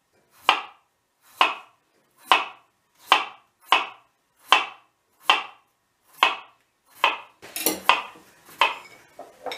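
A sharp knife slices potatoes thinly, like chips, on a board, giving about a dozen crisp, evenly spaced chops at close range that grow busier and louder at the end, with no talking.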